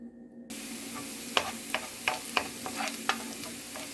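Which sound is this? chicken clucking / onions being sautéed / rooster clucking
onions being sautéed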